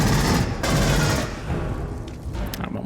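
Rapid automatic fire from a pulse rifle in the video game Aliens: Colonial Marines, coming as a loud, continuous burst that eases off partway through, followed by a few scattered shots and rumbling impacts.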